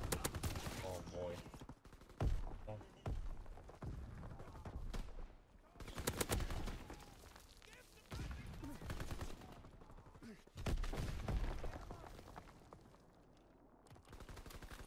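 A gun in a first-person shooter video game fires repeated bursts of rapid gunfire with short pauses between them. Game voice callouts are heard faintly in the background.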